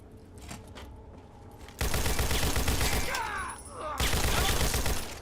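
Laser rifle gunfire in the Fallout game mod TTW, loud bursts of rapid shots in two heavy stretches with a brief dip between, over a busy game soundscape.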